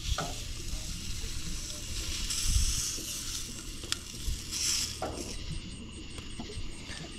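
Cheddar bratwursts sizzle on a grill aboard a boat during an overnight camping trip, a constant close frying hiss with occasional pops, crackles and a few light metallic clinks.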